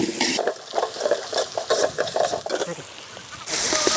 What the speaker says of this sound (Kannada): ಬಟಾಣಿ ಸ್ವಲ್ಪ ಫ್ರೈ ಆಗಲಿ